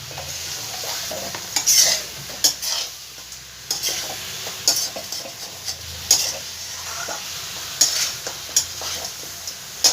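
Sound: stirring fish and lentil mixture in a pot

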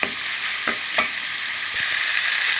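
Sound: prawns frying in a pan

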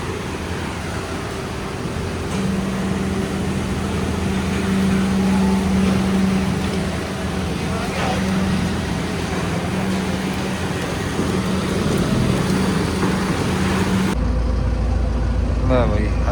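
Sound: tractor with empty trolley at the mill

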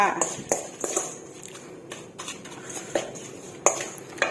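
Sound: mixing catfish with seasoning in a bowl

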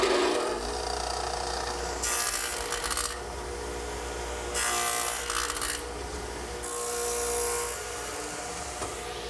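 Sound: radial arm saw with stacked dado head cutter cutting redwood

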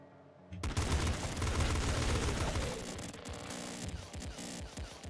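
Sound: assault rifle gunfire in video game Nuclear Throne

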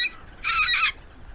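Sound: seagull's tremendous screech, sound effect

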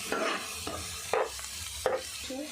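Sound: mint paste frying in oil with ginger garlic paste

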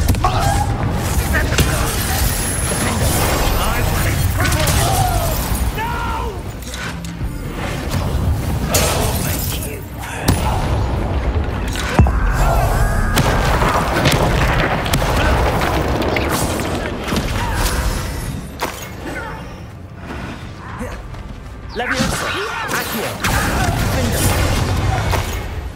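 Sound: Confringo explosion spell in the Hogwarts Legacy video game

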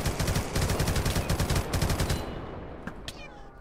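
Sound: gunfire from raiders shooting in a video game

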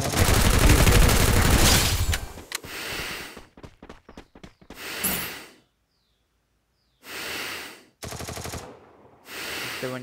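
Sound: gunshots in the video game Free Fire

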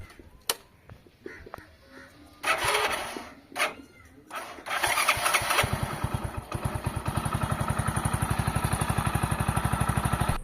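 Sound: motorcycle engine starting

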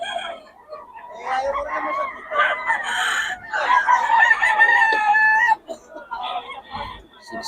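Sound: bull stag rooster crowing at market

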